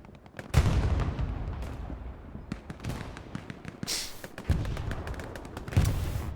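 Artillery shells explode in a World War II style video game on the Utah Beach map: several heavy booms land close by, with sharp cracks of gunfire rattling between them.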